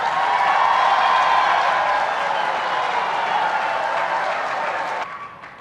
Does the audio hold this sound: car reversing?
no